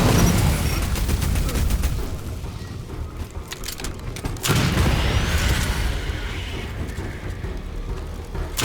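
Rapid bursts of automatic gunfire crackle in the sci-fi shooter game Aliens Fireteam Elite, then a loud grenade blast cuts through midway, followed by a rumbling tail and continued firing.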